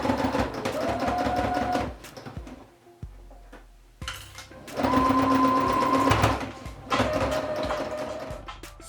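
A sewing machine stitches along the front placket of a shirt in several bursts, its rapid mechanical whir starting and stopping with brief pauses and handling clicks between runs.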